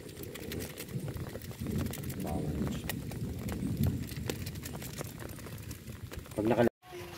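A steady bubbling, burbling churn of boiling water continues throughout at a night campsite, with faint voices in the background and a brief cut near the end.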